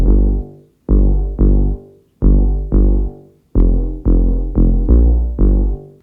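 Punchy bass layer from a Yamaha PSS560 80s toy synth, with deep sub-heavy notes plucked in a syncopated rhythm, each decaying quickly, loud and alone.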